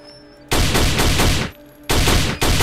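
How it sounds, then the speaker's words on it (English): An HK USP pistol fires in Fallout 3, in loud, rapid strings of shots: a fast burst of about one second, a short pause, then more quick shots close up with no talking. "I like this gun because you can shoot it pretty fast"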